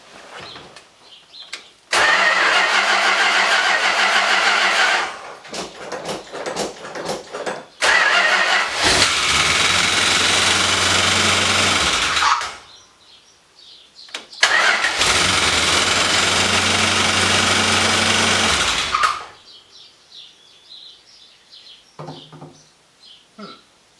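A police car's engine cranks and starts several times, revving loudly for a few seconds each time before cutting out, with quiet gaps between attempts.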